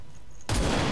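A single loud gunshot in XCOM 2 Long War of the Chosen, bursting suddenly out of a quiet background at mid-clip and ringing on as a dense, sustained blast.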